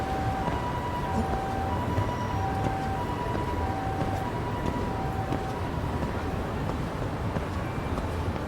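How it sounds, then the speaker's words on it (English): An alternating two-tone siren wails steadily in the video game Lost Judgment, moderately loud over a dense rumble of traffic or train-like background noise, with no speech. "Siren."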